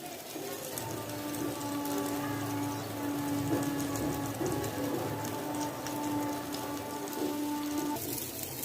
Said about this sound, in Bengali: এবার ফেটিয়ে নেওয়া ডিমগুলো দিয়ে দিব